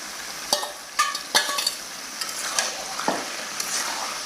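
Papaya, beans and bottle gourd stirred in a frying pan, with a soft sizzle underneath and several distinct scraping clatters of a spoon against the metal, close and clear with no talking.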